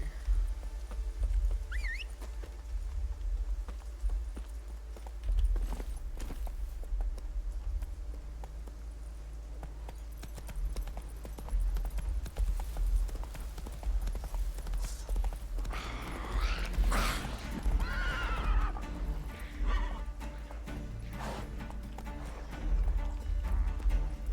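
A horse in The Witcher 3 video game clops along with steady hoofbeats over a low ambient rumble. Louder hoof and movement sounds come midway, along with what may be a brief whinny.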